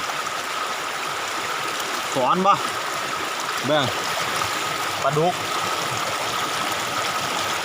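Stream water flows steadily beside a rice-field hut during light rain, a continuous close rushing wash, while someone talks over it now and then.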